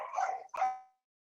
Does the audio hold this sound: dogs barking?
yes